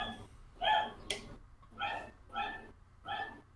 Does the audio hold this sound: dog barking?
yes